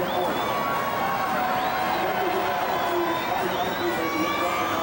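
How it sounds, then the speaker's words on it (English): Crowd cheering at a St Patrick's Day parade with 4,000 participants, a continuous broad roar of voices and shouts at a distance, with people talking throughout. "Lots of cheers from the crowd"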